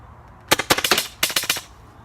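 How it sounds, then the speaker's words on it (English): Launcher firing inert rounds, with two rapid bursts of sharp, loud pops in quick succession and a brief pause between bursts, close by and without speech. "I'll show you the 3-round burst."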